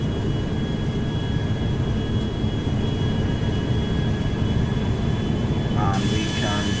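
Steady roaring jet engine thrust from a Boeing 787 in a flight video game, a constant loud broadband rumble with faint steady whine tones, with a voice speaking briefly near the end.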